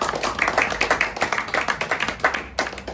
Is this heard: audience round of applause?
yes